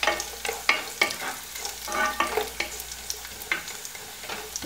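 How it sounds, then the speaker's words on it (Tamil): Cashew nuts and raisins fry in ghee with a soft, crackling sizzle, punctuated by irregular stirring scrapes and pops close by, with no talking. "cashew nuts-ஐயும் raisins-ஐயும் வறுத்து எடுத்துக்கலாம்"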